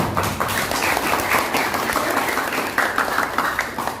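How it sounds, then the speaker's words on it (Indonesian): Applause from a classroom of students studying Islamic cultural history in a café setting, a dense steady patter of many hands filling the whole stretch without speech on top. "Itu Bapak sangat salut dan tepuk tangan buat semua."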